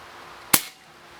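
A single sharp crack from a Crosman 1377 .177 pump pellet pistol, a short near report that decays quickly into quiet.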